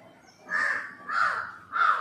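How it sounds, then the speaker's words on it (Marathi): Three loud, harsh caws from a nearby crow, evenly spaced, with quiet gaps between them and no talking. "नेहमी व्हिडिओ मी शूट करायला घेतलं की हे कावळे ओरडायला लागतात."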